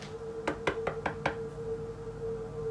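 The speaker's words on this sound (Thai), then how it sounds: "มีเสียงเคาะ" Knocking at a window in a narrated Thai ghost story: five quick, evenly spaced raps, fairly close and crisp, over a low steady hum.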